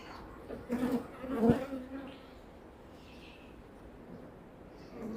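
A steady honeybee hum fills an open hive being inspected, with a colony showing drone brood, louder and busier for the first two seconds with some handling noise, then settling into a softer continuous drone.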